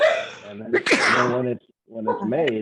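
A single sneeze bursts out in the middle of a woman's speech about making a blended matcha drink, short and close, with talking continuing on both sides of it.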